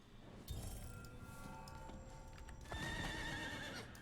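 A horse whinnies in the video game Diablo IV in a high, wavering call, followed by a second louder neigh, with soft hoof clops and faint ambient tones underneath.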